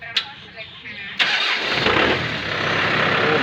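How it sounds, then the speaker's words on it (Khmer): A tractor engine cranks and catches, then settles into a loud, steady mechanical rumble close by, after a few faint sounds at the start. "ចាំមើលខ្ញុំតេស្តម៉ាស៊ីនឲ្យបងប្អូនមើលម៉ាស៊ីនរបស់វា"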